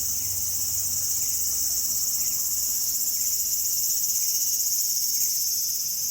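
Cicadas in Nagoya, Japan drone in a steady, high-pitched continuous buzz, dense and unbroken throughout, fairly close with no voices.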